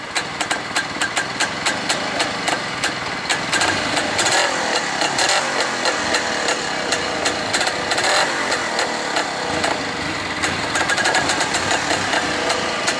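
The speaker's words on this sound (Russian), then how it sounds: "Не, мотор чисто работает вообще." An Izh Planeta 2 motorcycle engine running at idle on a first test ride, a close, loud, steady rapid putter with regular firing pulses throughout.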